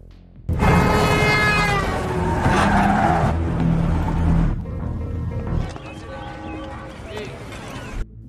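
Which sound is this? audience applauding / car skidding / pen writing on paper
car skidding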